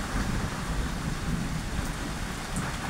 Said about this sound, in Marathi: विजा आणि पाऊस असं वातावरण आहे इकडचं आजचं.